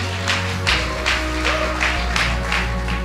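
Audience applause fills an awards ceremony hall: dense clapping from a crowd, steady and loud, with rhythmic swells running throughout.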